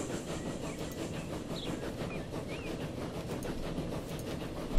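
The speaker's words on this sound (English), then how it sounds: "you'll see it's a pretty cool train line." A train in Transport Fever runs steadily along the track, giving a continuous rumbling roll with rhythmic clickety-clack from the wheels, fairly close and even in loudness.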